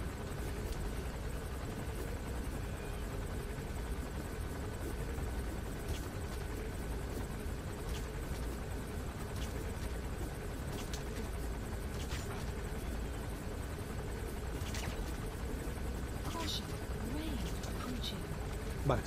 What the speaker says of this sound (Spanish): Ahora con cuidado de que el helicóptero no nos vea.